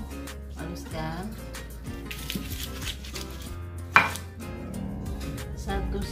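Eight garlic cloves ground fine make a run of irregular knocking and crushing strikes, with one sharp loud hit midway. The sound is close but fairly quiet, under a faint voice or tune in the background.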